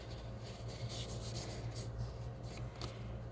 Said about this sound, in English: so let's fold our cardstock